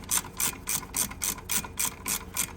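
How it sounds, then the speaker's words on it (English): A 3/8 inch socket on a socket wrench ratchets steadily on a lowered 1995 Impala SS suspension part, about eleven crisp clicking bursts in an even rhythm, close up and with no talking. "you take a 3/8 inch socket on your socket wrench, and you go ahead and put it on there"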